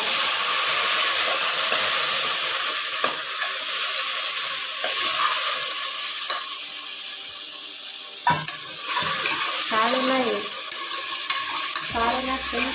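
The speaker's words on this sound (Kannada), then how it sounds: "ಕಾಳನ್ನ ಸ್ವಲ್ಪ ಎಣ್ಣೆಯಲ್ಲಿ ಫ್ರೈ ಮಾಡ್ಕೊಳ್ಳೋಣ" Fresh chickpea-like beans frying in oil for Karnataka-style sambar, a loud continuous sizzle and crackle close by, with occasional stirring scrapes toward the end.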